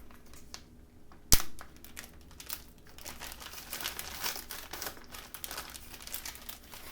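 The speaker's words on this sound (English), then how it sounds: "put them in this plastic bag, and then we will crush them" Graham crackers are crushed inside a plastic bag, a sharp snap followed by continuous close crinkling and crunching of plastic and crumbs, with no talking.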